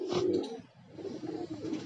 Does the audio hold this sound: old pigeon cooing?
yes